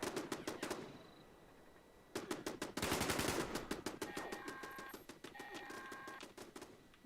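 Automatic turrets firing in Fallout 76 send out rapid, evenly spaced bursts of clattering shots. The bursts stop and start again, and faint electronic beeps sound between them.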